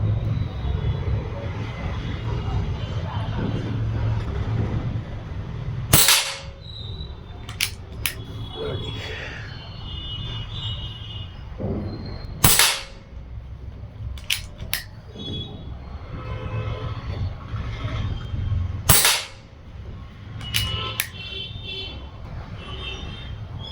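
An air rifle shoots Apollo pellets, giving three sharp, loud cracks about six seconds apart. Each crack is followed by small clicks from the action over a steady low background rumble.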